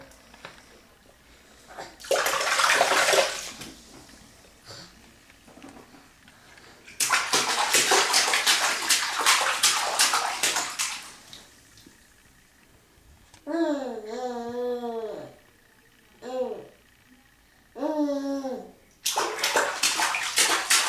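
A young child splashes water in a home bath, with bursts of loud sloshing and splashing separated by quieter pauses, and the child's babbling vocal sounds come through between the splashes.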